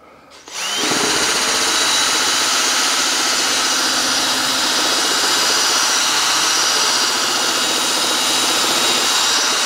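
Car headlight lens sanded with 1500-grit paper, a continuous loud abrasive rasp starting abruptly and holding steady and close throughout, with no talking.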